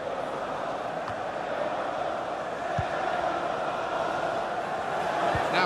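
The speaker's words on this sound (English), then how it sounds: "Oh, here comes the Mexican wave. The crowd having a good time." Virtual stadium crowd in FIFA 20 at a UEFA European Championship group match, a broad, steady roar that swells gradually as a Mexican wave travels around the ground, with a few faint thuds.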